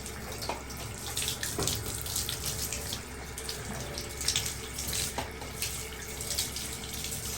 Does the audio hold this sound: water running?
yes